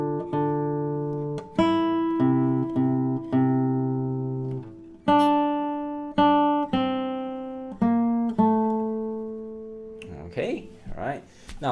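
Classical guitar plays a slow Spanish Knights melody from an ABRSM Grade 1 piece, plucked notes ringing out one at a time with steady decay, close and clear, ending in a few quick strums.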